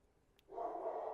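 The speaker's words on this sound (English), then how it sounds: "the dog started barking." A dog barks once, somewhat distant and muffled, rising out of quiet background and trailing into a sustained, low-level noise.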